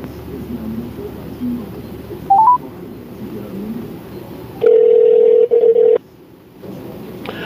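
A telephone dials, with a brief rising run of keypad tones followed by a loud, steady dial-tone burst broken by short gaps, set against low background murmur on a live sports call-in stream.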